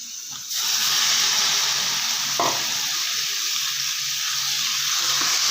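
Amaranth leaves stirred and frying in a hot pan for a palya, a steady loud sizzle with a brief scrape of stirring, no voices.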